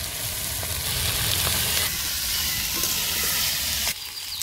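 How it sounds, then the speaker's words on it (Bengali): Chopped onion fries in a pan alongside potatoes, giving a loud, dense continuous sizzle with faint stirring taps, then a sudden shift in the hiss near the end. "পেঁয়াজ কুচি দিয়ে দিচ্ছি"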